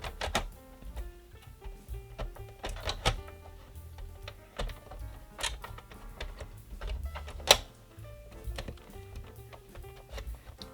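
Small screws go into a PlayStation 3 Super Slim plastic case from the bottom as it is reassembled, giving sparse, irregular clicks, ticks and light plastic knocks, close and fairly quiet.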